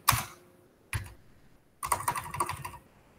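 Typing code on a computer keyboard, three bursts of rapid key clicks, short at first then a longer run of quick taps, close and clear with no voice.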